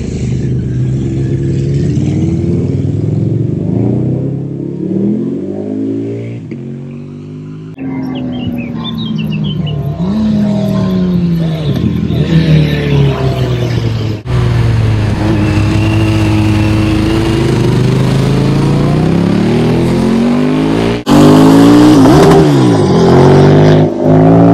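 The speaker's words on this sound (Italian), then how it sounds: "Il suono delle moto in montagna." Several motorcycles arriving at a biker rally climb a mountain hairpin bend, engines revving and rising in pitch one after another, loud and close as they pass, with a continuous roar throughout.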